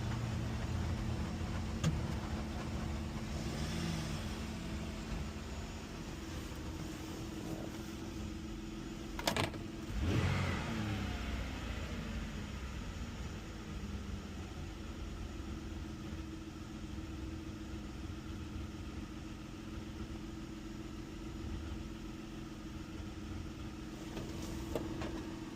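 A car at a dealer auction idles roughly, its steady low engine rumble running throughout with a brief rev near the middle before it settles back to an uneven idle; no one speaks.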